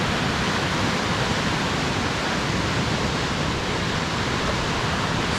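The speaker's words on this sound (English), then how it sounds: "Some serious white water." Loud, steady roar of rushing white water rapids in Aurland, Norway, a dense constant hiss and rumble filling everything with no voices.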